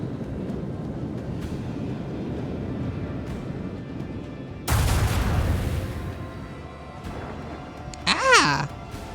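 A burst of heavy impact noise strikes partway through as ship torpedoes hit during a space battle in the Warhammer 40,000 game Rogue Trader, over steady low game ambience, followed later by a short rising sweep.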